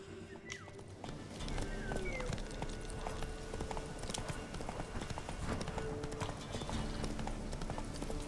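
Roach the horse gallops in The Witcher 3, with rapid, rhythmic hoofbeats that run steadily and close under a soft ambient game backdrop and faint occasional effects.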